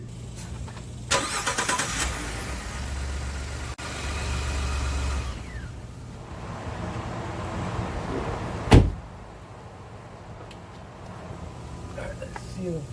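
Truck engine cranking over and catching, then idling at a low rumble, with a door clunk, a sharp knock partway through and a person talking nearby.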